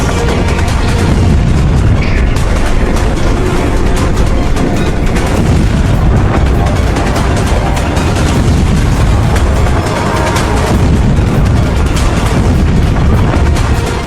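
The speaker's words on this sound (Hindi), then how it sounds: "ये जोरदार धमाका हुआ।" A massive ammonium nitrate explosion roars on and on, a very loud, continuous rumbling blast with crackling booms layered throughout.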